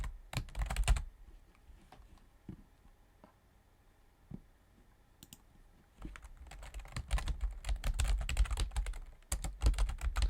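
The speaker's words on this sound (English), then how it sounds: "You guys will probably hear me typing real fast." Fast typing on a computer keyboard comes in dense bursts of clicking, with a short flurry at the start, sparse taps in the middle, then a long rapid run near the microphone, with no talk.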